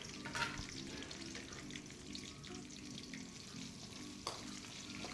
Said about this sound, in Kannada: ಹಾಗೆ ಕಡಲೆ ಬೀಜ, ಹಾಗೆ ಈರುಳ್ಳಿ ಹಾಕ್ಬಿಟ್ಟು ಚೆನ್ನಾಗಿ ಫ್ರೈ ಮಾಡ್ಕೋಬೇಕು